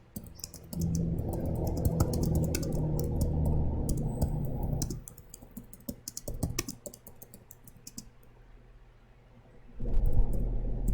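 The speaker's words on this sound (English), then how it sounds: "Type the beginning of the document." Someone types on a computer keyboard while preparing a meeting agenda document, a dense run of close, rapid key clicks that pauses in the middle and then resumes briefly near the end.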